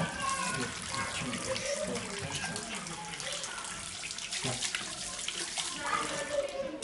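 Tap water runs steadily from a faucet into a sink as a man performs Islamic ablution, a continuous splashing wash that fills the whole stretch, with voices talking faintly over it.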